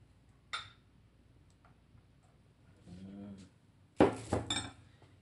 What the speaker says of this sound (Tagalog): I-mix po uli natin to.